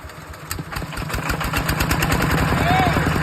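A small rice-field walking tractor engine turns over on an electric starter motor and catches, settling into a loud, rapid, steady chugging idle.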